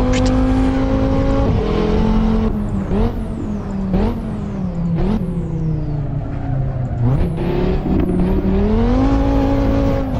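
An Audi RS3 Sedan 2020 in a driving video game with a traffic map mod, its engine loud and close, rising and falling through repeated revs and gear shifts with sharp shift whines over the top.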